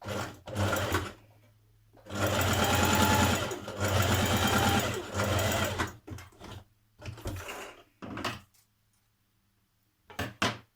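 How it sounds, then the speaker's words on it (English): A sewing machine stitches a fabric tab with a 1 centimetre seam for a wrap dress, running in several close, loud bursts of rapid stitching separated by short pauses, with no talk. "So you're going to sew your tab with a 1 centimetre seam"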